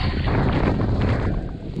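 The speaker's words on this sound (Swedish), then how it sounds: "Men här inne blåser det från norr eller något." Wind gusting across a sailboat anchored off the Greek islands, a steady loud rush with microphone buffeting that fills the whole clip without letup and no talk over it.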